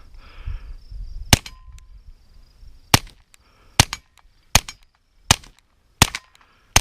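A suppressed FN 502 .22 LR pistol fires six sharp, quiet shots, spaced about a second apart, with faint handling noise before the first shot and no speech.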